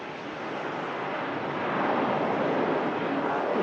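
Aer Lingus Airbus A330 bound for New York rolling for takeoff at Manchester during a storm, a broad rushing engine roar that builds and holds steady, blended with heavy wind noise, no talk.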